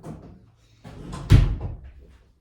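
A door opens indoors with a short creak and a solid wooden knock or thud at its peak, then fades, heard close and alone.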